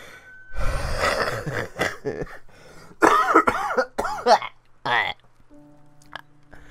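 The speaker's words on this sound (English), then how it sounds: "I was about to talk and then a second cough came up" A person coughs hard several times in a rough fit, with throaty gasps and strained breaths between the bursts, close to the listener.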